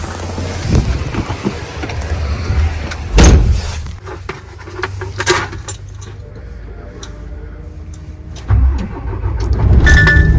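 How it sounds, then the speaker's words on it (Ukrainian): A DAF CF85 truck converted to a dump truck cranks and rumbles to life, with a door clunk and some handling noises around it, the idle growing louder toward the end. "Зараз заведемо і піднімемо кузов."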